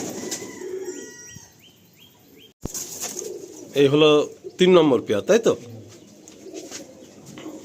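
Pigeons at a seller's loft coo under a burst of wing flapping, then a sharp clack, after which someone speaks loudly over continued soft cooing and rustling.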